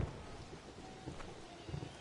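Thunder and rain from a baseball video game play faintly as a steady hiss of rainfall with low, soft rumbles rising briefly near the start and end.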